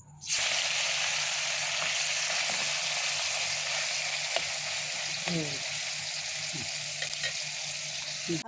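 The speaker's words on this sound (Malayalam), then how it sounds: "നമ്മൾ ബാക്കിയുള്ള ചെമ്മീനും കൂടി ഓയിലിലേക്ക് ഫ്രൈ ചെയ്യാൻ വേണ്ടി ഇട്ട് കൊടുക്കണേണ്" Prawns frying in hot oil in a pan; a loud, dense, continuous sizzle heard up close, with a few faint clinks and stirring knocks underneath and no talking.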